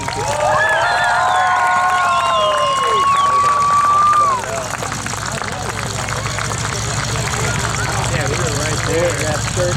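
A crowd applauding and cheering for Marines at an outdoor tank farm event in Nokesville, a sustained roar of clapping and whoops, with a long whistle and a loudspeaker voice over it early on.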